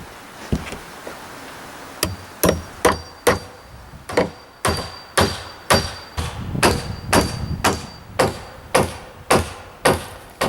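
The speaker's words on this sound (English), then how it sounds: "Now I can nail these main studs, or king stud, I can nail them into place." A hammer drives nails into wooden king studs while a garden shed greenhouse side wall is framed, about fifteen sharp ringing blows at a steady rhythm, close and loud with no talk.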